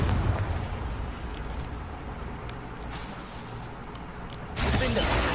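A Confringo spell explosion in the video game Hogwarts Legacy, heard as a sustained rumbling blast and crackle followed by a louder burst near the end.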